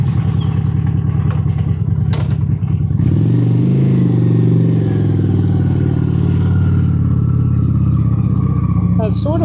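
Honda Shadow 750 Spirit cruiser motorcycle setting off on a ride, its V-twin engine rumbling loud and steady and rising as it pulls away, with a rider's voice heard over it early on.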